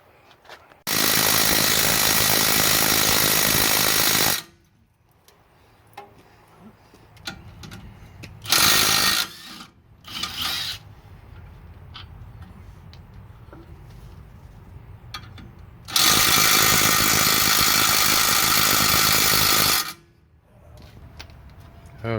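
A power tool whirs loudly in long continuous runs on the 21 mm caliper bracket bolts of a 2006 Ford F250 rear axle, with short bursts and ratcheting clicks between them, close up and dominant.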